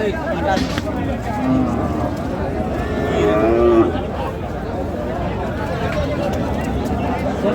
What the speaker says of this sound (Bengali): এখানে যে গরুগুলো কিনছেন মাঝারুল ভাই